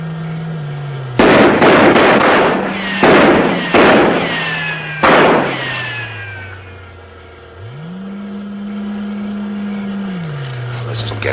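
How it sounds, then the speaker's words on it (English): Soldiers fire several rounds in a 1950s sci-fi film scene, loud sharp bursts of gunfire in quick clusters over a low steady hum, followed by a rising and falling tone. "Maybe if we fired a few rounds, it might scare them out."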